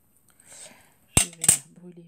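Fabric being cut on the bias with scissors, two sharp, close snips in quick succession after a soft rustle, then near silence.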